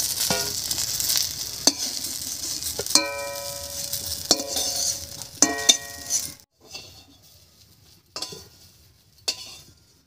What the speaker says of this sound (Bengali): বেগুনটা আমি কম তেলেই ভেজে নিচ্ছি, কারণ বেগুনটা আবার রান্না হবে।